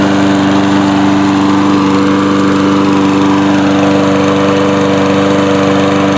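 A lawn mower engine held at full throttle after a fix for stalling, a loud, steady, close drone with a strong buzzing hum that never wavers.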